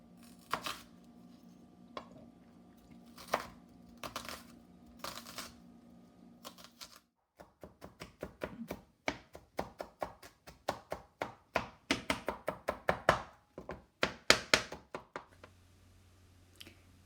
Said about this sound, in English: we're going to start chopping. First the shallots, and then after that the garlic.